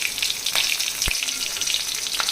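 A green chili sizzles and fries in hot oil for okra sambar, a steady close crackle with a few sharper pops.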